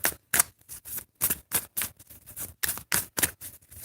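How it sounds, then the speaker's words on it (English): Tarot cards are shuffled in quick, crisp riffling bursts, about a dozen short papery snaps in an uneven rhythm, close and fairly quiet with no talking. "So let's go ahead and shuffle some more."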